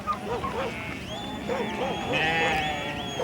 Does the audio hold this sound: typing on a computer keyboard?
no